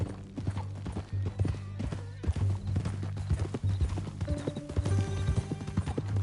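Steady hoof clip-clops from a horse at a walking pace in the video game Red Dead Redemption 2, with music playing throughout and a brief whinny-like sound partway through.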